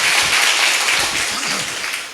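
Brief, thin applause from a church congregation, a soft patter of hands that fades slightly over two seconds.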